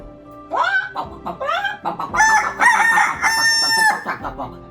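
Chickens cluck and a rooster crows repeatedly nearby, loud overlapping calls with rising squawks and a few honking notes.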